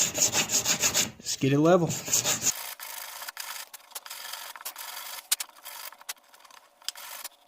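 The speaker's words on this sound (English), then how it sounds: "I'm going to use some 120 on a firm backer, in this case a piece of maple, just an offcut from something" Rapid rasping strokes of 120-grit sandpaper on a firm maple backer working an acoustic guitar nut, steady scratchy rubbing close up after a brief spoken line.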